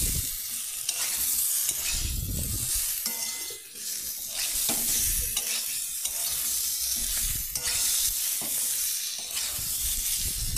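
Papaya and potato pieces sautéing together in a pan, a steady loud sizzle broken by repeated scrapes and stirs of the spoon, with no voices over it.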